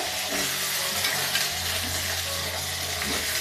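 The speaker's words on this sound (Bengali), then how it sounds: "তিনটে সবজি আমি আগে ভেজে নিচ্ছি" Papaya, carrot and potato fry in a pan with a steady, close sizzle and crackle, broad hiss continuing throughout with faint stirring and no voices.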